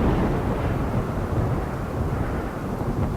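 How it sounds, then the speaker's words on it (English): Thunder rolls during a rainstorm in the RimWorld video game: a continuous deep rumble with a steady noisy wash over it, moderately loud and with no talking. "In the rain, getting shot by lightning."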